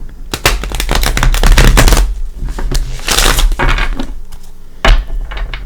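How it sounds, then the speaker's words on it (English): A tarot card deck being shuffled by hand, with rapid riffling and flapping bursts of cards, loud and close, coming in uneven waves with brief pauses between shuffles. "So, let me give him another shuffle."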